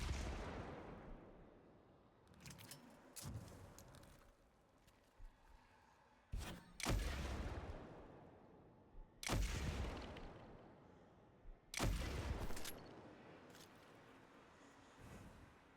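Weapons fire in Destiny 2, including a sniper rifle, during a Shattered Throne dungeon fight: several heavy single shots spaced a few seconds apart, each booming and echoing over quieter combat noise.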